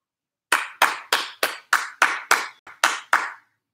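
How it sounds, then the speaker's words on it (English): Ten separate sharp claps in a steady rhythm for a birthday during a kids' PE class, close and distinct with silence between each and no voices. "Let's give him a round of applause right now."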